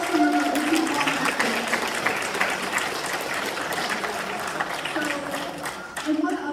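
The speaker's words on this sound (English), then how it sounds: "Let's give a big round of applause, actually." Round of applause from the audience at a student hackathon keynote, a steady, moderately loud wash of clapping that carries through the whole stretch with some crowd murmur.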